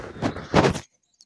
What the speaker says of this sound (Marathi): मोराचा सुंदर असा कुठून तरी आवाज आला